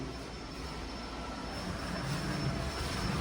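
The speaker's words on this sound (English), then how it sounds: "The assistant is vacuuming." A vacuum cleaner runs while wood floors are being cleaned indoors, giving a steady, loud motor roar with a thin high whine that holds constant and swells slightly toward the end, with no talking.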